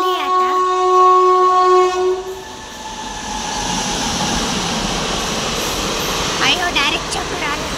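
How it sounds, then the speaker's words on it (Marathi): A train pulls into a railway station at night. A loud horn blast opens, then a continuous rolling rumble of wheels and carriages takes over and holds steady. "एक ट्रेन आलेली आहे आता"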